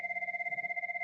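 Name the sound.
telephone ringing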